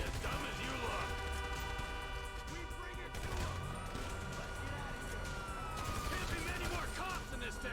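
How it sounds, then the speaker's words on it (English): Police sirens wailing in the video game GTA 5, rising and falling under loud game noise and a talking voice, with scattered gunfire-like pops. "you hear that? Sirens."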